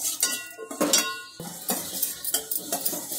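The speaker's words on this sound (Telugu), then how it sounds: "అందుకుని అటుకుని ఈ నెయ్యిలో ఒకసారి దోరగా వేయించుకోవాలి" Flattened poha is roasted in ghee in a metal pan, with a spoon scraping and clattering against the pan in quick irregular strokes and only a faint sizzle beneath.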